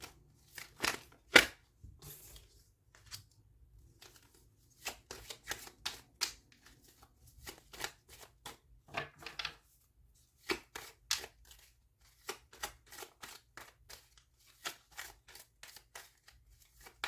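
Oracle cards of a magical-dreams deck are shuffled in rapid, crisp riffling bursts with short pauses between, close and fairly quiet, with no talking.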